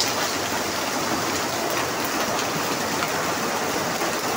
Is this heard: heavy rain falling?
yes